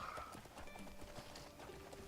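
Horse hooves clip-clopping at a walk in a fantasy video game, soft regular steps under faint game ambience, with a sharp click at the end.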